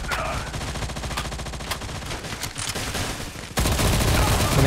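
Gunfire in the Alpha Ace mobile video game, a continuous rattle of rapid shots and explosions that grows louder and denser near the end, with no talk over it.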